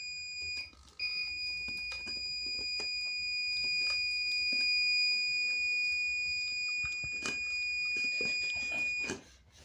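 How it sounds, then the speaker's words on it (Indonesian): An IoT door security alarm triggered by a reed switch when the door opens, a loud continuous electronic tone that cuts out briefly, resumes and then stops, with a few soft clicks and handling noises around it. "saat pintunya tertutup, alarmnya akan mati karena red switch-nya mendeteksi pintu sudah tertutup. Kita buka lagi, akan berbunyi."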